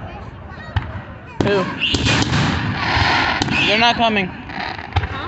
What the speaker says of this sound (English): They're staying out. Shooting fireworks.